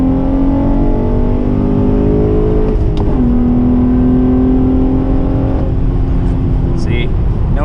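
An Acura TL AWD with a six-speed manual accelerating in third gear after a downshift, its engine note rising steadily with a brief break before pulling again, loud and close from inside the car with a voice talking over it.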